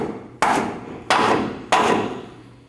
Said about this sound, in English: you want to tap the end of the bolt up towards the steering box